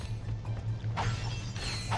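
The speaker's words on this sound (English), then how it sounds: "Collecting our bolts." Bolt pickups in Ratchet and Clank 2: two bright bursts of chiming metallic clinks, faint over a steady low game hum, the second cluster near the end.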